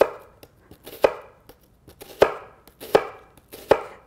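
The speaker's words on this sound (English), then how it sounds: "Just hold it like this and go in and slice the onions." A knife slices through onion on a cutting board, a series of sharp, crisp chops with uneven spacing, about six firm strikes and lighter taps between them, close up with no talking.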